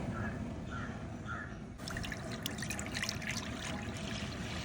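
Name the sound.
milk being poured into a pan for palada payasam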